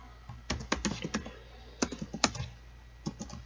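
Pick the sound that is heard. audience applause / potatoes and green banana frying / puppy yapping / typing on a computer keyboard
typing on a computer keyboard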